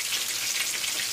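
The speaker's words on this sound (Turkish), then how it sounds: "soğanlarımız, biberlerimiz de yeterince sotelendi" Onions and peppers sauté in a pan for Turkish karnıyarık, a steady, dense sizzle of frying with no pauses or voices, close and even throughout the short moment.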